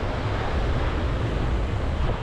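Steady roar of sea waves breaking on a Caribbean beach at Playa Mamitas, Playa del Carmen, mixed with constant wind buffeting the microphone, loud and continuous with no voices.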